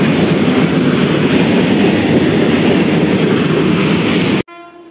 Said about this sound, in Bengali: খড়গপুরের WAG7 নিয়ে মালগাড়িটা যাচ্ছে নৈহাটির দিকে